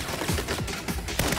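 Rapid gunfire in the video game Saints Row: a dense fusillade of sharp, loud shots packed into a second and a half, with no voices over it.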